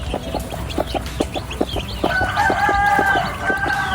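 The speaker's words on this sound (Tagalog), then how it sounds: "Ang cute naman ng mga sisiw natin dito." Chickens cluck in a quick, regular run of close clucks, joined partway through by higher, drawn-out chick-like calls and peeping that carry on over the clucking.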